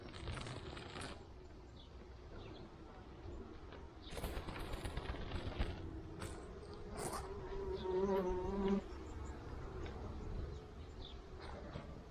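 Honeybees buzzing steadily inside an opened hive, a dense continuous drone with louder swells as individual bees pass close, alone with no voices.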